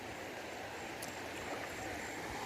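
Water pours steadily over a small overflow weir on a stream, a dense continuous rushing wash that stays even and close throughout with no voices.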